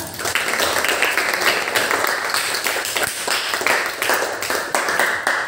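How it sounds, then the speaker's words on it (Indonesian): Classroom of students clapping for a group presentation, a sustained burst of dense applause with sharp individual claps throughout, fairly loud and close. "Kita kasih tepuk tangan."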